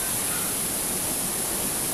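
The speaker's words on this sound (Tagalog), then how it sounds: "Ang lakas din ng agos." Strong, rushing water pours down Twin Falls in Kalayaan, Laguna, a steady close roar of falling water filling the whole scene.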